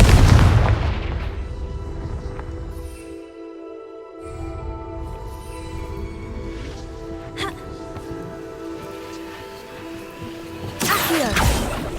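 A Confringo spell blast in Hogwarts Legacy, a heavy booming burst at the start that decays into a humming magical drone, followed later by a sharp crack and a second crackling impact near the end.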